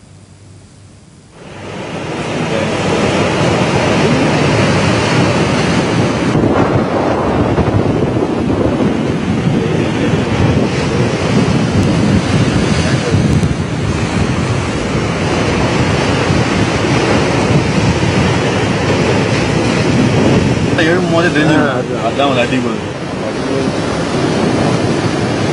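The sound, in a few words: strong wind and rough sea during coastal storm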